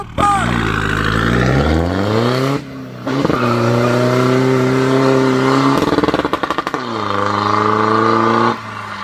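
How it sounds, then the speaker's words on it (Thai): A Chevrolet car pulls away in first gear on a wet, slippery road, its engine revving loud and close with rising pitch, a brief gap, then steady hard acceleration that rises again before easing off. "เบรกมือลง ใส่เกียร์หนึ่งพร้อมแล้ว"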